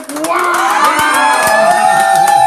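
An audience at a saxophone recital cheers and whoops with bright, sustained shouts, some high-pitched voices standing out, loud and close throughout.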